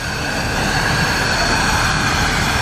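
A 4884 steam locomotive passing near Nunn, Colorado: a loud, continuous, dense rumble and roar of the passing train fills the whole stretch without a break, with steady high hiss above it.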